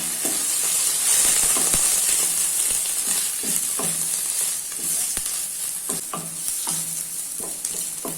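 Ginger garlic paste and ground coconut stirred in a frying pan for misal, giving a steady close sizzle with repeated scraping strokes of a spoon against the pan throughout, no voices.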